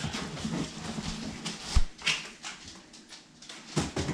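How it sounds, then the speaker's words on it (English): Dogs at a Streetcar Takeover car meet at Rockingham give short whimpers and yelps among rustling and handling noise, close by and moderately loud. "The dogs are still incredibly interested in what's going on."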